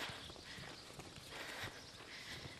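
A young mare's hooves beat out a steady, soft walking rhythm on arena footing, quiet and even, with no voices.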